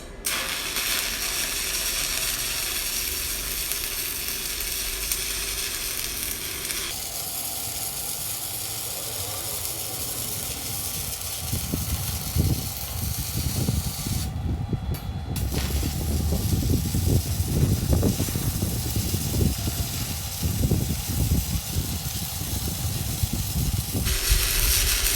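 Stick welding with a 1/8 inch 7024 rod on a Tooliom 250M multi-process welder at high amperage on thick metal, a steady close crackling hiss with rough sputtering bursts through the middle.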